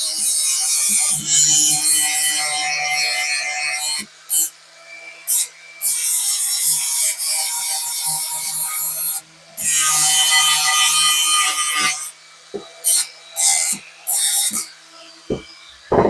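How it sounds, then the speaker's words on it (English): A hand tool rasps and scrapes along the ends of a steel piece to clean them for welding, in long abrasive strokes broken by pauses, then shorter choppy passes toward the end. "Okay, so we've got our piece of steel. Just need to tidy up the ends. Make sure they're all clean for welding."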